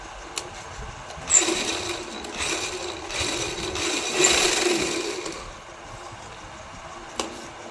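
A sewing machine stitching the neck of a lined kameez: several short runs of mechanical whirring separated by brief pauses, close and moderately loud, with occasional clicks between runs.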